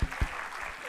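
An audience at a youth health consultation event at AIIMS Rishikesh claps, with a couple of strong opening claps followed by a steady wash of applause, fairly loud and close.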